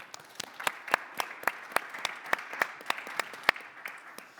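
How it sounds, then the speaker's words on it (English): Applause for a panel speaker at a conference on data, AI and power plant efficiency: a small group claps with distinct, individual sharp hand strikes in an uneven rhythm, fairly light and sparse. "Applause, please."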